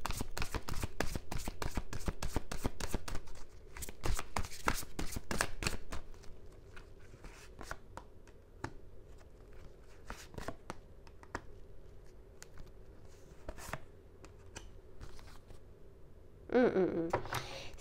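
Tarot cards being shuffled for a card reading: a rapid run of crisp riffling and flicking for the first several seconds, then sparser separate snaps and taps, close and fairly quiet, with a brief voice at the end.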